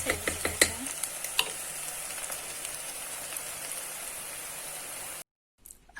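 Eggs and potatoes stirred in a frying pan, a steady sizzle with scraping clicks of the utensil near the start, running evenly before cutting to silence near the end.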